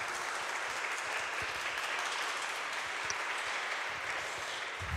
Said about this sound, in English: I really ask you to make a big applause to them